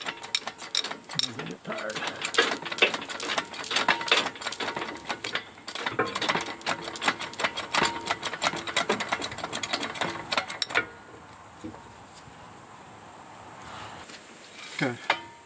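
A jack is ratcheted to raise a bush hog mower, giving a long run of steady metallic clicks close by that stops abruptly. Someone talks briefly over the clicking.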